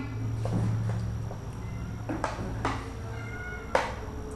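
A cat meows repeatedly while being fed KFC chicken, giving several short, distinct calls spaced a second or so apart, close and clear over a quiet background.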